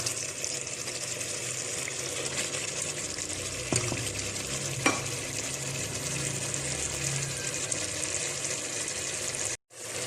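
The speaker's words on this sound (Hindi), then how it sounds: "आलू और गोश्त 1 मिनट फ्राई हो गया।" Steady sizzling and bubbling of potatoes and mutton frying together in a pan for a Pakistani-style aloo gosht, a continuous close wash of sound with a couple of faint clinks and no speech.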